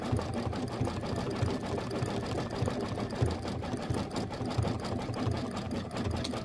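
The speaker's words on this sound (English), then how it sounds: "This is 6 minutes of stitching. Big old chunky satin stitch." A sewing machine runs a big, chunky satin stitch along a fringe for a quilt block, a steady, continuous mechanical hum with rapid needle rhythm throughout, close and alone.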